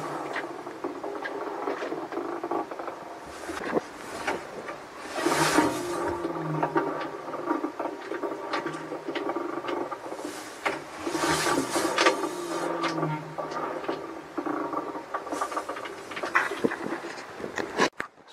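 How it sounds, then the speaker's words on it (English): A Samsung washer tub spins freely by hand, giving a faint scraping, rubbing whir with uneven swells and clicks that repeat in slow surges. "make sure you listen to when the tub is freewheeling"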